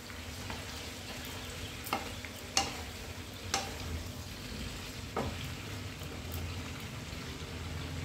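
Sweet potatoes cooking in a pan on a gas stove are stirred with a spoon, giving a steady soft sizzle punctuated by a few light scraping clicks, close and quiet with no voices.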